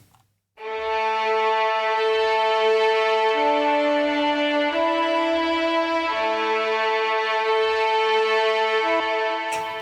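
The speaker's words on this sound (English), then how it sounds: "So we'll start with the violins. They sound like this." Layered string section of violins in a drum and bass track built in Logic Pro, holding smooth sustained chords that shift a few times, clear and steady with no talking.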